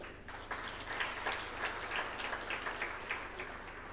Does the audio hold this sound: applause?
yes